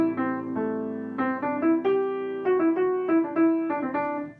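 A melody, played in Dorian mode on a single instrument, moves through a clear run of separate notes at a moderate tempo, close up and with no voices.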